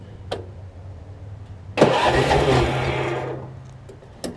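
A Troy Bilt Pony riding mower engine is cranked after service, with a couple of clicks before it catches and runs loudly for about two seconds, then fades off as it dies, followed by another click.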